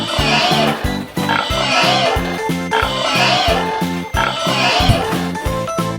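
A pig oinks and grunts repeatedly in a steady, close, loud rhythm over a lively backing tune, with no speech over it.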